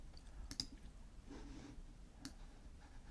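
Several quiet mouse clicks come in a small cluster and then again a moment later as points are placed in photo software, with a faint rustle in between against a very low background.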